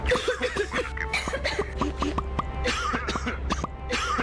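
Several people cough and clear their throats in quick succession, close and fairly loud, mixed with short bursts of sound.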